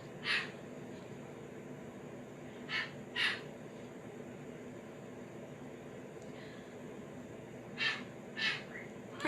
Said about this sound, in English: Pretty bird is waiting for her meal.